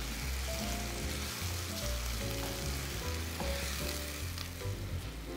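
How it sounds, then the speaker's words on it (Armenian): Minced onion fries in a pan with a steady, close sizzle that carries on without a break, while soft clinks and stirring sounds come and go over it. "Սոխը տապակում ենք այնքան, մինչև հյութը գոլոշանա և թեթև վարդագունի"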